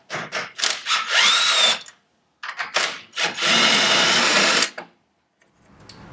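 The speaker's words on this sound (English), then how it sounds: "Now we're going to be removing the two Torx 40s on the stock door hinge." A power drill removing Torx 40 screws from a stock vehicle door hinge whirs in several short bursts, then two longer runs, with brief pauses and clicks between, close by and loud.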